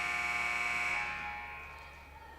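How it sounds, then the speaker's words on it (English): A loud electronic buzzer sounds at a women's college volleyball match against St. Joseph's Brooklyn, a steady harmonic tone holding for about a second before fading into gym ambience. "I believe the buzzer will ring, though."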